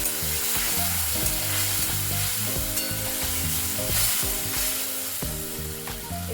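Ginger, tomato and green chilli paste frying with potatoes in a pan: a loud, steady, close sizzle runs throughout, broken by repeated scraping and clattering stirring strokes, with no talking.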